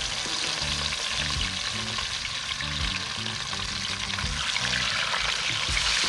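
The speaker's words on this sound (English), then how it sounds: "I'm going to start frying fish now." Fish frying in a pan at an outdoor river party cookout, a continuous loud sizzle and crackle of hot oil with occasional stirring, while a beat of music plays in the background.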